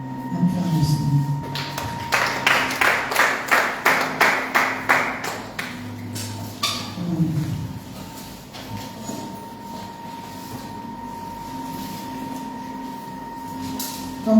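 A church congregation claps in a quick, steady rhythm for a few seconds, then the clapping thins out and fades into a quiet, reverberant room hum, with a voice heard faintly at times.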